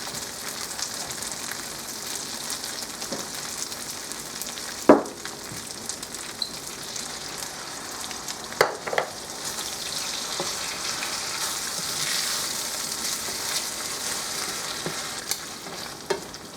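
Potato filling for rellenos de papa frying in a pan makes a continuous bright sizzle, with occasional stirring clicks and one sharp knock, steady and close throughout.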